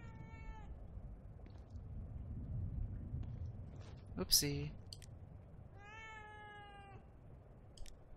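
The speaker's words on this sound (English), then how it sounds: "Can I pet the cat?" A cat in The Evil Within meows twice, once at the start and once near the end, with a quiet low rumble between the calls. A person says a brief word in the middle.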